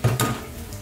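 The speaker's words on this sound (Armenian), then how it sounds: "Լցնում ենք սիրելի ամանի մեջ" Soaked, boiled chickpeas tipped into a bowl make a quick double clatter, two short bursts close together and near, then fading into a soft room hum.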